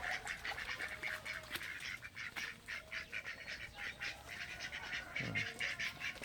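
Ducks and geese honk and quack continuously at moderate distance, a busy flock playing in water in a flooded rice field, with faint background noise and no speech.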